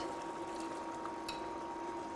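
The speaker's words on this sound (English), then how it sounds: "the prepared Puli or tamarind water. You're just going to pour that." Tamarind (puli) water is poured into a brinjal curry in a cooking pot, a soft, steady liquid pour that stays faint and continuous with no talking.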